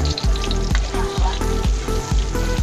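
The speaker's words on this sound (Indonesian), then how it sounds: "kita goreng sampai wangi, sampai keluar aromanya" Garlic and shallots frying in oil in a pan for Indomie noodles, with a loud, close, continuous sizzle and periodic stirring scrapes, and no voices.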